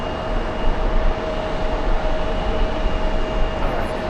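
Austrian Airlines Boeing 787 airliner inbound from Vienna on an eight-hour flight, heard near JFK airport as a steady, broad roar of jet noise that holds evenly throughout with no voices.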